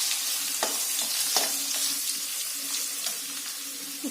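Garlic, cumin and coriander powder fry in a pan for Jammu-style rajma, giving a continuous close sizzle with a few sharp stirring clicks and scrapes throughout.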